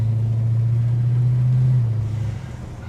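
A car drives along a main street on a Friday morning, its engine giving a steady low hum that holds, then eases and fades toward the end, with no talk.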